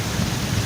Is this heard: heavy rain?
yes